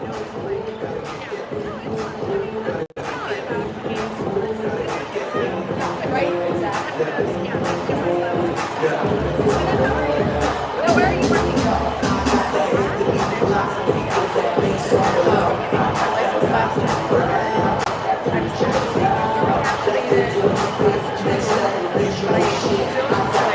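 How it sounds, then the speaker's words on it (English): Packed gym crowd at a high school boys' basketball game between Catlin Gabel and Oregon Episcopal, a steady loud roar of voices and cheering that swells near the middle, with commentary talk on top. "So we got quite the crowd here for this game"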